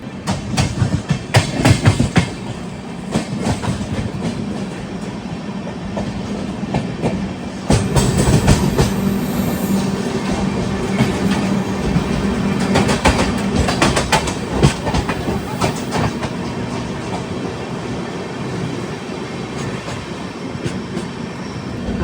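The Punjab Mail express train passes close by, its loud continuous roar carrying rhythmic clickety-clack wheel beats on the rails that swell again partway through and run on for over twenty seconds.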